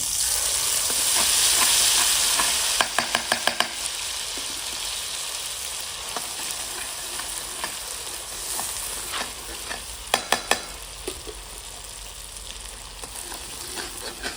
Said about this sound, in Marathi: आपण आता कडेमध्ये तेल टाकून घेऊ जिरं कढीपत्ता आपलं काळ्या मसाल्याचं वाटण